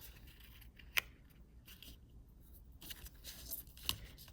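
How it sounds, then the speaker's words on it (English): Pen pressing and sliding along a folded paper edge while making a mini accordion book, soft quiet scraping with two sharp crisp clicks, close up and faint, no voices. "Use a pen to crease the edge."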